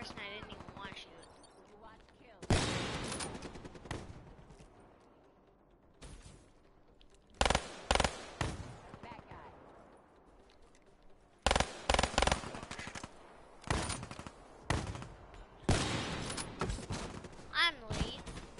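Gunfire from the video game Black Ops 3, with bursts of shots and automatic fire coming in loud clusters separated by quieter gaps, and game sounds running between them.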